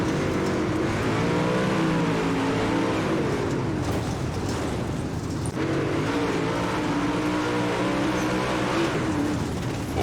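Late model dirt race cars in the iRacing Dirt game at Lincoln Speedway, engines droning loud and steady at full throttle with rising and falling pitch, a dense continuous roar across the whole stretch.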